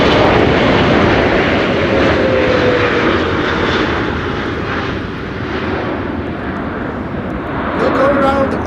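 An Emirates Airbus A380 lands at Amsterdam Schiphol in storm-force winds, its broad engine roar rushing steadily and swelling again at the end, mixed with gusty wind noise.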